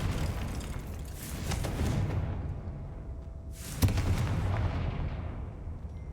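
Confringo spell explosions in the Hogwarts Legacy video game: two booming blasts a couple of seconds apart, each with a hissing tail, over continuous game background rumble.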